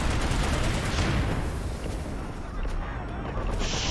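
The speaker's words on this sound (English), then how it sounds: "So many shotguns." Shotgun blasts in a competitive Overwatch match come as dense, loud overlapping gunfire and explosive bursts, filling the whole stretch.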